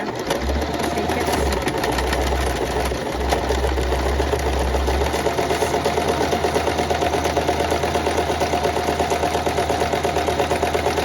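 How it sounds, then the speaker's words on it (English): A sewing machine zigzag stitching along a blank coffee-dyed index card: steady, fast mechanical whirring and rapid needle chatter running continuously, loud and close, with no voices. "I'm going to try stitching a zigzag stitch along this blank coffee dyed index card"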